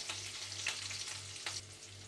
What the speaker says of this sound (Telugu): ఇప్పుడు ఇవి కూడా ఇందులోకి వేసేసుకొని ఉల్లిపాయలు ఫ్రై అయ్యే వరకు ఫ్రై చేసుకుందాం.